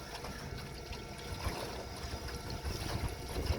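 A Grumman 17 canoe cruises at about 4 mph under a Torqeedo electric outboard drawing 100 watts, giving a steady, even wash of water and wind noise with a low hum beneath.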